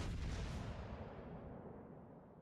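Heavy guns of a Japanese battleship fire in a naval video game, one deep booming blast that rolls off into a long low rumble, loud and with no voices over it.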